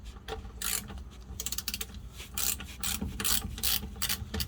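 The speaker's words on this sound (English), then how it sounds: "I got my 1/2" flex head ratchet, and let's get it in" A 1/2-inch flex head ratchet loosens a rear differential bolt on a 2011–18 Ram 1500: bursts of rapid, close ratchet clicking, with brief pauses between strokes.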